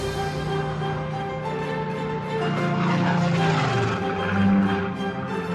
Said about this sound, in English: The roar of a wartime Spitfire heralds the arrival of the man the RAF trusts to supervise that training